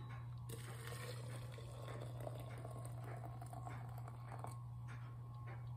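Hot water poured for tea makes a faint, steady trickle and splash. It runs continuously under a low electrical hum, with no voices.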